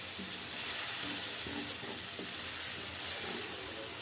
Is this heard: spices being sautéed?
yes